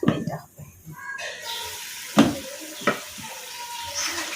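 A cooking paste of coriander and cumin with a splash of water sizzles in a pan as it is stirred. Talking runs over the sizzle, with a couple of louder knocks partway through.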